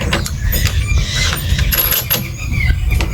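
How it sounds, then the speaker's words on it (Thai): A nut being tightened on a white wind turbine with a 70 cm to 1 m blade size, giving close, steady metallic ratcheting and creaking clicks throughout, with no voice over it. "แล้วก็ขันให้แน่นอีกทีนะครั บ ขันให้แน่นนะครับ"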